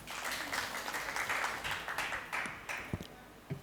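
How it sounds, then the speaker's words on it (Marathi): Audience at a Marathi ghazal recital clapping, a fairly faint spread of applause that thins toward the end into a few scattered louder claps. "आपल्या टाळ्या कमी पडतायत मित्रांनो"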